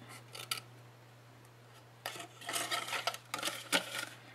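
Scissors snip through cardstock, trimming small tabs and pieces while making a mini tissue holder; a few brief cuts early on, then a denser run of close, crisp snips and rustles at moderate level, with no talking.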